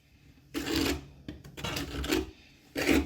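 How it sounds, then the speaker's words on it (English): A trowel spreads tile adhesive on a wall during a ceramic tile repair, making several close, scraping rasping strokes with short pauses between them. "I'm going to spread this adhesive on here."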